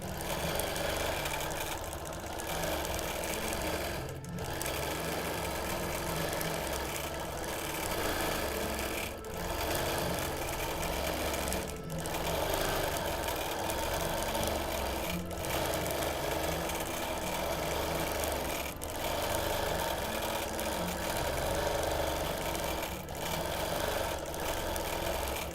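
A sewing machine runs freehand quilting stitches on a wholecloth baby quilt, a fast steady mechanical chatter broken by brief pauses every few seconds.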